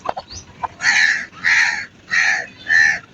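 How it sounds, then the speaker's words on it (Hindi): Crows caw outdoors in Pakistan, four loud harsh calls in a steady rhythm. Each lasts about half a second, preceded by a few softer bird chirps. "कौवे भी बहुत हैं।"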